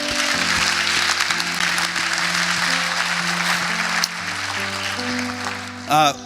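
Applause from an audience at a celebration event, a broad continuous wash of clapping under music and a voice, easing slightly midway.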